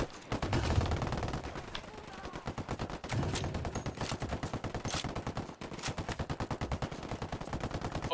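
Automatic weapons firing in Ghost Recon Wildlands, rapid rhythmic bursts hammering almost without pause for eight seconds, loud and close, with a brief gap midway.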